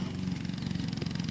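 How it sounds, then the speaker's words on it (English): A lawnmower mows a pasture in the background behind a vegetable garden, a steady, moderately loud engine hum with a fast regular putter, heard alone without talk. "Pardon the lawnmower noise in the background."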